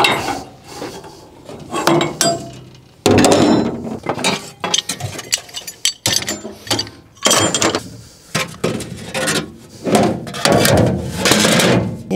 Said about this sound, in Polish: Trzeba wziąć młotek i klucz.